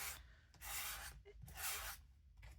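A small mini sanding block rubs in short rasping strokes, roughly three bursts separated by brief pauses, close and fairly quiet with no talk.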